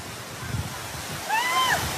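Storm water pours like a cascade in Paris during a violent storm, a steady broadband rush that swells louder partway through, with a brief whistling tone rising over the roar.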